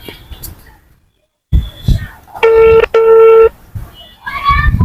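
A phone rings out on an outgoing call: two long steady electronic ring tones with a short gap between them, loud and alone, set between bursts of talk before and after.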